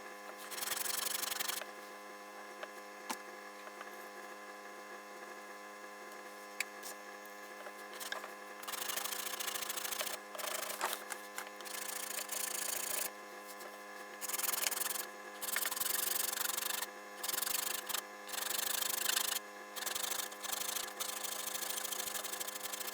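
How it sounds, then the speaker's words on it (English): A hand rasp shapes a wooden piece into a trapezoid, giving steady back-and-forth rubbing strokes in bursts with short pauses, close and fairly loud over a constant background hum. "all done shaping it with the rasp, and it's got the trapezoid all the way"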